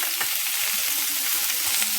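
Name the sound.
sautéing vegetables for noodles in a pan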